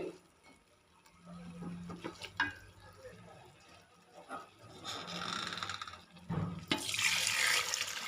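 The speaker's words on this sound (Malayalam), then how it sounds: "ഞാൻ ഇതിലേക്ക് വെള്ളം ഒഴിച്ചു കൊടുക്കുന്നുണ്ട്" Water splashes and pours in bursts into a cooking pot for tomato rice, building to a fuller gushing stream toward the end, with a few clanks along the way.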